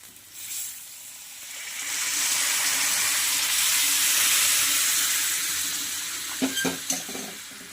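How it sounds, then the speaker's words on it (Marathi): Remaining boiling water poured into roasting semolina for halwa, setting off a swelling hiss and sizzle of steam that builds, holds, then fades into a few sharp stirring knocks in the pan near the end. "राहिलेलं पाणी सुद्धा आपण रव्यामध्ये घालून घेणार आहोत"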